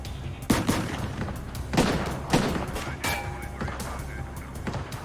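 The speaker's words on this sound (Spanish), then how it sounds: "Se giró y disparó hacia donde Bammel estaba parado. El agente devolvió el fuego." Gunfire traded between an FBI agent and a fugitive: several sharp shots at irregular intervals, moderately loud, over a noisy background in a true-crime recreation.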